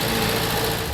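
A 1970s Ford Escort MK1 engine runs at a steady idle, a continuous close, even drone with a low hum and no voices over it.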